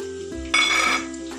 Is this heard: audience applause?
no